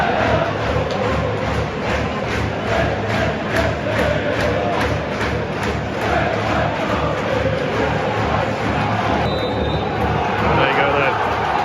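A football crowd at Lincoln City's stadium keeps up a steady, dense roar and chant as the teams come out before a League One match against Barnsley, continuous and enveloping throughout.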